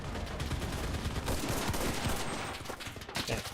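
Level 2 rear gunners fire in the video game Mixers: Legends of Terrestria: dense, rapid bursts of gunfire keep up in a continuous fusillade, loud and close, with scattered sharper cracks through the mix.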